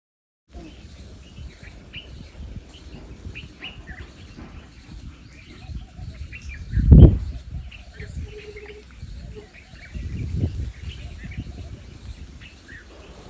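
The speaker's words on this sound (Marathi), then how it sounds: "मेडिटेशन बघा करताना चिमण्यांचा आवाज येत होता" Sparrows chirp repeatedly in the distance, high and scattered, with a few louder close-up rustles and bumps.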